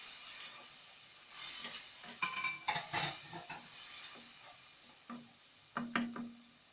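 Whole spices being fried and stirred in a pan for fish curry, with a soft steady sizzle, scraping of a spoon against the pan and a few sharper metallic clinks near the end.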